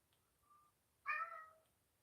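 Cat indoors giving a faint short call, then one louder, clear meow that trails off, alone in a quiet room.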